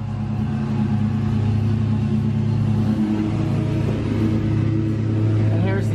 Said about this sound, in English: Sorry about the noise from my neighbor mowing.